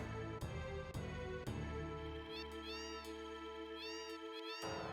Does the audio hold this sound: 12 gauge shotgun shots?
no